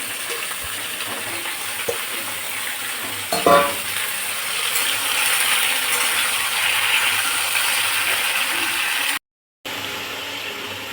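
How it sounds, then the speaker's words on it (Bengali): Sliced ridge gourd sizzles in mustard oil with black cumin seeds in a wok, a steady close frying hiss broken by a few clinks and stirring scrapes, with a brief dropout near the end. "ওভেনে কড়াই বসিয়েছি, সর্ষের তেল দিয়েছি, দিয়ে কালো জিরে ফোড়ন দিয়েছি, দিয়ে এবার এটাকে আমি একটু ভাজা ভাজা করব"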